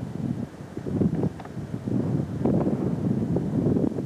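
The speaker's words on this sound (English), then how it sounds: "Bit windy." Wind gusting across a mountain summit at Big Junction, 5,235 feet elevation, buffeting the microphone in uneven rough bursts with low rumbling, no talking.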